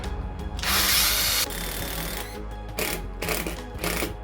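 A power drill drives screws during a sailboat refit, with a loud whirring burst followed by shorter stop-start spins and clicks, close by and with no talking.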